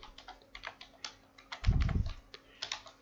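Quick tapping on a computer keyboard while comments are typed into Arduino UNO code, irregular keystrokes close up with one heavier thump partway through, no talking.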